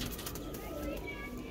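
Pigeons cooing and fluttering nearby, a steady dense murmur of low soft coos with faint wingbeats, continuous throughout, with a little faint talk in the background.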